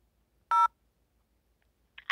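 A single short telephone keypad tone rings out clearly while a jail phone menu option is selected, followed after a quiet pause by the start of another tone.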